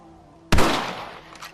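A single sharp rifle shot in the Red Dead Redemption video game, a loud close crack that rings out and decays over about a second.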